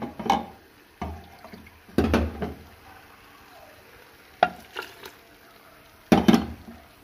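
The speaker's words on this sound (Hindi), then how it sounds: "अब हम टमाटर का पेस्ट डालेंगे जो हमने पीस के रखा था" Tomato paste stirred into beef karahi cooking in a pot, heard as several loud bursts of scraping and stirring with a soft sizzle between them.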